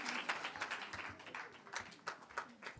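An audience in a State House hall claps for the president of Sierra Leone at a women's groups' congratulatory gathering, a dense, fairly quiet burst of applause with uneven rhythm and no distinct talking.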